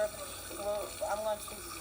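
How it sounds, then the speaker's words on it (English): A tap runs while hands are washed, a faint, steady stream of water with a person talking over it. "I put the water on first, wash my hands"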